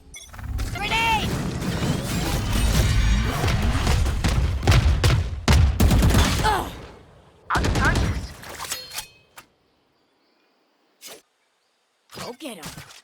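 Grenade blast and gunfire in a competitive multiplayer video game match: loud, dense bursts of combat noise for several seconds with voices calling out over it, then sharp isolated bangs separated by quiet gaps.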